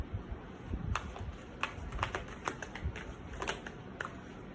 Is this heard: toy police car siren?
no